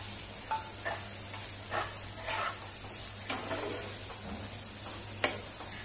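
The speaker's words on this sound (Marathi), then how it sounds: "हे बघा चांगलं 2-3 मिनिटं मी कांदा असा छान परतवून घेतलेला आहे" Chopped onion softening in a spiced masala with turmeric in a pan, giving a low steady sizzle with occasional soft scrapes and stirring taps, fairly close and with no voices.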